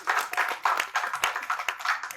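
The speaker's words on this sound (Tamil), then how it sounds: "தயவு செஞ்சு நீங்களே ஒரு தடவை கைத்தட்டீங்க" Hand claps from an audience at a stage event for a film team, a short burst of close, quick claps in an uneven rhythm lasting about two seconds.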